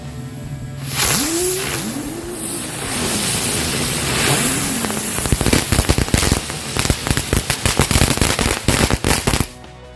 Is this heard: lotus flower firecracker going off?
yes